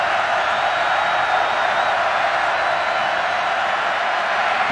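Home crowd roaring at a 2016 Miami versus Georgia Tech college football game, a dense, loud, unbroken wash of stadium noise with no distinct cheers or claps standing out.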